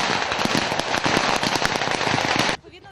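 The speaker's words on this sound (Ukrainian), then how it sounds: "Цей обстріл має спровокувати вогонь у відповідь з будинку." Rapid gunfire bursts from a military training exercise that simulates shelling a house, dense crackling shots close and loud, then cutting off abruptly.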